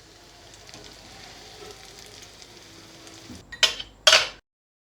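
Fried vegetable cutlets being dished out of the pan after shallow frying to golden: soft oil sizzle, then two clear metallic clinks of the utensil scraping and lifting near the end.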